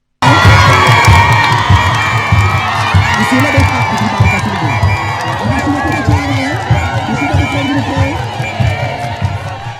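A large crowd cheers and shouts with long, loud acclamations to welcome a prize laureate at an airport in Bujumbura, with whoops and children's voices mixed into the sustained roar.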